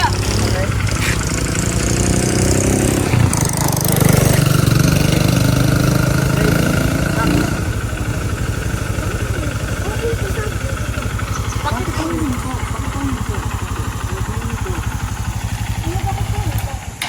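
A motorcycle engine idles close by with a steady, loud, mid-pitched rumble throughout, while people talk over it.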